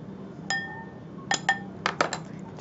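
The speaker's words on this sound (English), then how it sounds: "Just whisk that all together." Olive oil and Dijon mustard whisked together in a bowl for a rice and barley salad dressing, giving a few sparse, bright clinks of metal against dish, close and fairly quiet.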